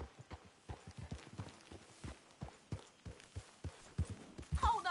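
Horse hooves clip-clop along a trail in the Western video game Red Dead Redemption 2, a steady rhythmic trot of distinct close hoofbeats, briefly rising in intensity near the end.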